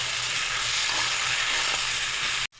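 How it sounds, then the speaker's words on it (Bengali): Spices for a fish curry fry in a pan with a dense, loud, continuous sizzle. The sizzle cuts out abruptly near the end. "এবার একসঙ্গে সবটা পুরো কষিয়ে নেব।"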